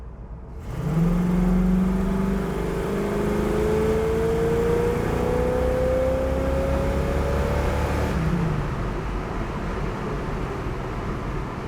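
A 1969 Chevrolet Camaro Yenko-style car accelerates hard, its engine note climbing steadily in pitch for several seconds before easing off, loud and close, with nobody speaking.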